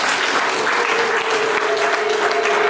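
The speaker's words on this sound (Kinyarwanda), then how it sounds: "Mubampera amashyi." An audience applauds at a wedding agreement ceremony, a dense, even clapping that stays loud and sustained without pause.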